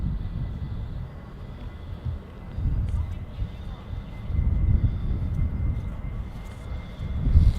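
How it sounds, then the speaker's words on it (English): A Virgin Atlantic Boeing 787 Dreamliner roars on takeoff, a broad rumbling engine noise that swells and fades with wind buffeting the microphone. "Let's hope this Virgin Dreamliner shows us how the gear goes up"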